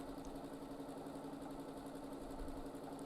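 A sewing machine running steadily during free-motion quilting of swirls, a continuous even mechanical hum and whir with no pauses, faint and close.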